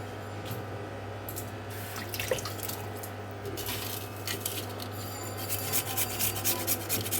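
A potato is rubbed over poppy seeds on a stone grinding slab, making soft, repeated scraping and rasping strokes with faint wet squishes, close and fairly quiet throughout.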